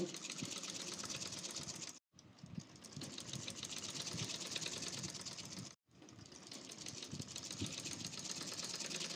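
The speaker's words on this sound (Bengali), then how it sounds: "বডির কাপড়টা হালকা টান রাখবো আর হাতার কাপড় লোন দিয়ে হাতাটা সেলাই করব" Sewing machine stitching a sleeve onto the body of a 16-panel (kali) dress, running steadily and loudly with two brief stops between bursts.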